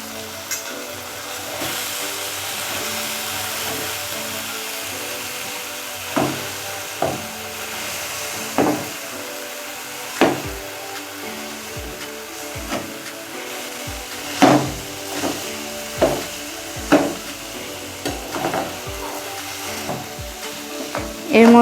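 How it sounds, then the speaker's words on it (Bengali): Sugar being stirred and melted over a low flame in a pan while making kheer puli pitha, with steady soft scraping under a low sizzle and a series of sharp, regular utensil knocks against the pan toward the end. "এটা ভালো করে নেড়ে চেড়ে চিনিটাকে গলিয়ে নেব"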